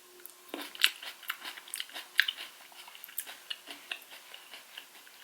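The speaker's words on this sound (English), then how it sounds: "I still have my bowl of grapes, but you know, that's something good to just munch on." Someone munches on grapes from a bowl, giving close, irregular crunchy bites and chewing clicks that continue over several seconds in a quiet room.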